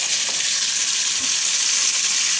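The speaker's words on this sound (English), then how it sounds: "So I'm gonna put like a tablespoon of minced garlic" Minced garlic frying in a pan with cooking oil, a loud steady close sizzle with bright hissing crackle throughout, no talk.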